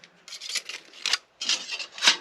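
A Milwaukee M12 cordless nibbler bites through sheet material in short bursts, giving harsh scraping, rasping chatter that stops and restarts a few times, loud and close with no voices.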